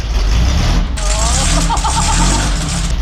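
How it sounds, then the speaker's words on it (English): An old buggy engine cranks, catches and revs in a loud, steady rumble that drowns out people talking nearby. "Flip the toggle switch up, push the button. Give it a little gas."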